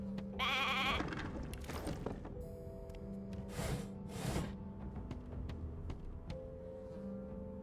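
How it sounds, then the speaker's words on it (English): Sheep in a video game bleat several times, short wavering calls spaced across a few seconds over looping game music and occasional soft thuds. "Hey, a sheep!"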